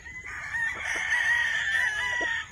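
A Kelso gray roundhead bull stag gamecock crows once in a long, loud, sustained call that rises and holds before trailing off, close by with no talk over it.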